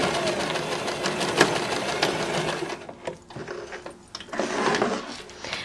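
A sewing machine runs in fast bursts while stitching a seam on a milk-carton pouch, with a steady mechanical whir, a short pause and clicks in between, then another stitching run.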